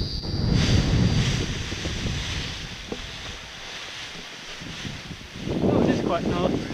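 Wind buffets the microphone at a paragliding site at Sunnyside, Victoria, Australia, a rough rumbling roar rising and falling in gusts with voices speaking over it.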